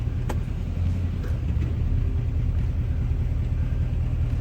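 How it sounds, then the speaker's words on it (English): A Duramax diesel pickup truck reversing, with a steady low engine rumble and drone that runs loud and continuous throughout, with no talk. "Put my truck back in reverse."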